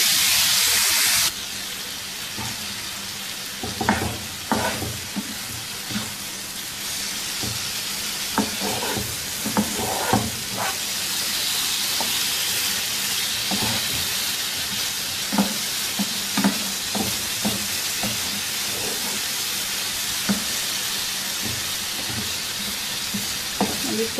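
Chicken tikka boti pieces cook over medium heat in a pan on a stove, giving a steady, close sizzle and hiss with repeated scraping stir strokes throughout.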